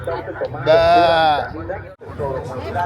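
A loud sheep bleat rings out up close at a market in Mexico, a wavering drawn-out cry, with people chattering around it before and after.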